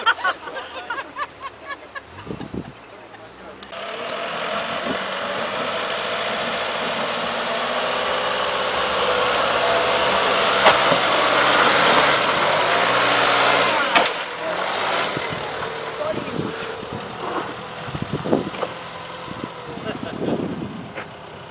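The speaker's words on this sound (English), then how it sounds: "we're going to just gently increase the engine speed and make the car walk up there" A car engine runs steadily, its pitch rising as it revs up and holds, then settling back down; brief voices cut in near the start and end.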